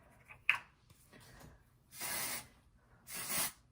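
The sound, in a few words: hairspray being sprayed onto hair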